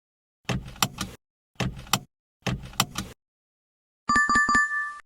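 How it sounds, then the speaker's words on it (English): Car seat belt being buckled, three separate sets of sharp metallic clicks and latching snaps, each with a short rattle, followed by a brief ringing chime tone, close and clean against silence. "Sound is car seat belt buckling."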